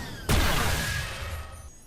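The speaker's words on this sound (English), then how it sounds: "Clunk gets the basic missile sound like this." Clunk's basic missile weapon from the Awesomenauts video game fires with one sudden loud boom that trails into a rumbling, fading tail, alone without any talk.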